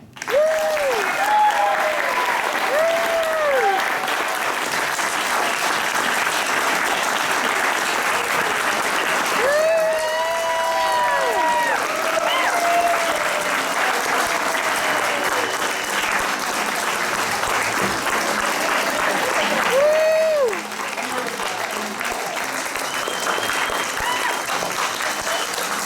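A theater audience applauds at the close of an improvised comedy show, with sustained clapping and cheering throughout, and a few brief voices ringing out above the crowd.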